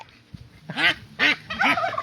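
Three loud, nasal duck calls ring out close by in quick succession, with brief gaps between each.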